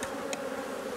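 Honeybees buzz steadily around an open beehive during a honey harvest, a close, continuous hum with brief brighter flurries of wingbeats.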